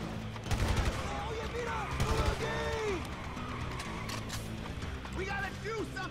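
GTA 5 first-person gunfire, sharp bursts of shots in two clusters amid mechanical clicks and a busy game soundscape, with people talking over it.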